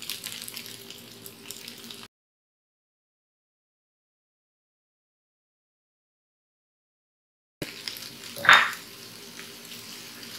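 Sliced onion and curry leaves sizzle in a hot pan for a kappa and beef dish. The hiss is heard briefly at the start, then drops out into a long silent gap and returns with a sharp clatter near the end.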